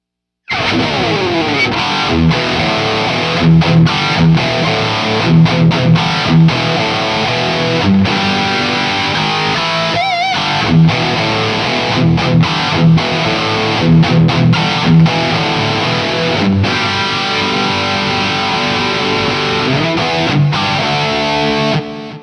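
Heavily distorted electric guitar through a modded 1974 Marshall tube amp plays loud, dense, saturated riffs continuously for over twenty seconds, with no talking.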